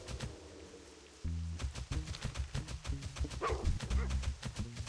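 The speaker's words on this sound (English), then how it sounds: "Doggy." A dog barking in World of Warcraft Classic, out in the wild, giving repeated close yips and woofs in a quick uneven rhythm over a low ambient hum, with a voice briefly audible underneath.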